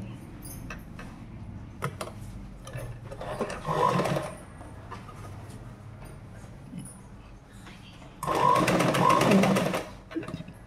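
A sewing machine stitches a jacket in short bursts, two longer runs of rapid mechanical clatter separated by quieter handling clicks and fabric shuffling close by.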